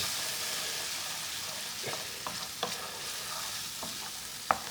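Spoon stirring lamb rogan josh curry in a hot pan, with a soft steady sizzle and a few scattered scraping clicks, close and moderately quiet with no talk.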